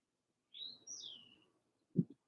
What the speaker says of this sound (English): the birds are so loud over here.